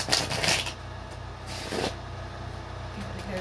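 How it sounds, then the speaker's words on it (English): Tarot cards being riffled and shuffled up close, a dense papery flutter in short bursts with a steady low hum underneath. "Give it a good shuffle."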